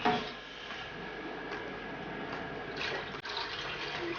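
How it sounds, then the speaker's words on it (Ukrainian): Lye solution poured into melted soap-making oils, a soft continuous liquid stream, close and fairly quiet, with a faint clink near the end and no talking. "вливаємо соду в олійки"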